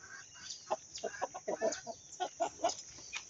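A rooster and hens of a new breed cluck in a series of short, irregular calls from a sheltered coop, faint and somewhat distant over a steady background hiss.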